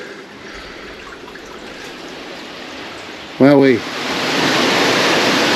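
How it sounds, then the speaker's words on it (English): Steady rushing roar of a waterfall pouring down one side of an old coal mine tunnel, a continuous broadband wash that swells louder toward the end, with a brief exclaiming voice cutting in partway through. "The waterfall seems to stick to one side"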